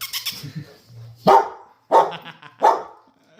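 A dog barks three times, close and loud, with short pauses between, after a brief stretch of soft background talk.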